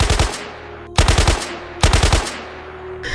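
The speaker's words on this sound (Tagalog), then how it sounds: "Dahil sa pag-i-echo ng mga putok ng baril sa kabilang dako ng bundok." Three bursts of rapid machine-gun fire ring out across a mountainside in an audio drama, each loud volley trailing into a long echoing decay before the next.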